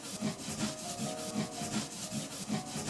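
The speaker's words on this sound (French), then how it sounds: "Quand j'affûte, que ce soit cet outil-là ou cet outil-là, il est que sur la planche." A leather-working blade is sharpened on a wooden sharpening board, giving a steady rhythmic back-and-forth rasping rub, close and fairly soft, repeating about every half second with no talk.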